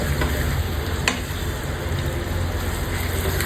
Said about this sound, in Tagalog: sinabay ko siya sa onions and garlic sa pagsote